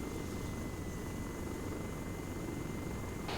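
Steady aircraft engine drone from a video game flight, a continuous broadband rumble with a thin high whine, holding evenly throughout at moderate level with no talk.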